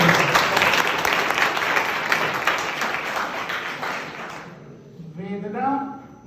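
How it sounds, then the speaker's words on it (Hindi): Students in a classroom break into loud applause, a dense burst of clapping that gradually thins out and fades, followed by a teacher speaking once the clapping stops. "ताली बजाओ"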